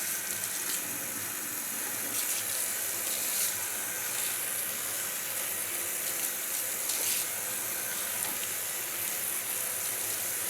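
Water runs steadily at a sink, rinsing bleach out of hair, a soft constant splashing hiss with no voices, fairly quiet and close.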